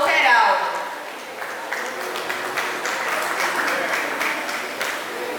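Applause for the head table at a farewell ceremony of the Clube Lenhadores, a steady wash of many hands clapping in a hall, fairly loud at first and continuing evenly throughout.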